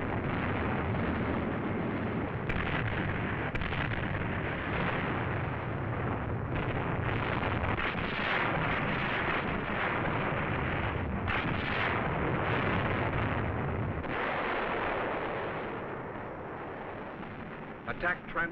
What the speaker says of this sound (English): Rocket ships plaster the beach. Minesweepers clear the way. Underwater demolition teams blow up beach obstacles.